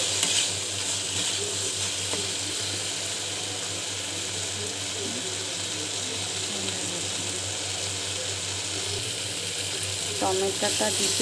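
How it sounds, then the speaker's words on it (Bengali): Masala being stirred as it fries in a pan, with a steady close sizzle and intermittent scraping and clinking of the utensil against the pan throughout, plus a brief rattle near the end. "একটু নেড়ে চেড়ে নিচ্ছি।"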